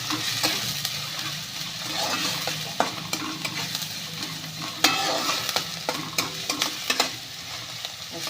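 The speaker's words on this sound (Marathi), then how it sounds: "कांदा भाजून घेते" Onion frying in a pan gives a steady, close sizzle, broken by the clicks and scrapes of a spatula stirring now and then, with no voices.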